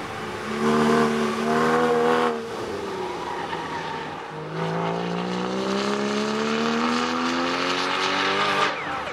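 A Porsche Cayman GT4 lapping a race track, its engine revving loud and close, pitch climbing through gears with a brief dip and lift around mid-lap before rising again, no talk.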